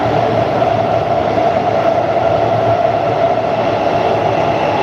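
A Warsaw metro train runs with a loud, steady rumble and rolling hum that stays constant from start to finish, with no voices.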